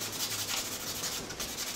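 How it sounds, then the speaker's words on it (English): Steady, continuous scratchy rubbing of sandpaper on a briar pipe, close and even in loudness throughout. "I'm going to sand this down"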